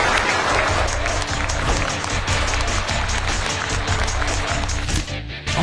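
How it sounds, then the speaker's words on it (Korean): A large audience at a business gathering gives loud, sustained applause to welcome the South Korean president, a dense continuous clatter of many hands that eases off slightly at the very end. "저희도 다 같이 환영의 박수를 한번 크게 한번 해주시면"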